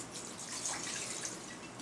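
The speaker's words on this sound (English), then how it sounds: "I'm going to take my wine, my little sangria, and I'm just going to pour that right in there." Sangria wine pours into a dish in a kitchen, a steady soft liquid trickle that runs continuously for about two seconds, fairly quiet and alone with no talking.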